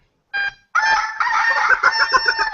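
A chicken crows loudly and close by: a brief opening call, a short pause, then a long, strained cock-a-doodle-doo that wavers toward the end, with no talking over it.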